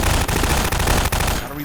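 Loud, rapid automatic gunfire from the video game Half-Life 2 rattles on continuously with a few brief breaks before cutting off near the end.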